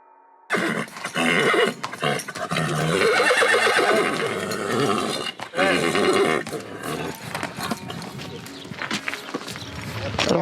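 Horses at a ranch in the Corbières hills near the Mediterranean neigh and whinny loudly and close, repeated calls with some hoof clatter and stirring around them.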